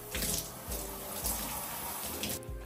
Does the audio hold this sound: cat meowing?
no